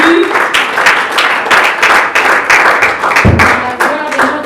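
Church congregation at a Sunday worship service applauding steadily, dense clapping filling the space throughout with a few voices and cheers mixed in.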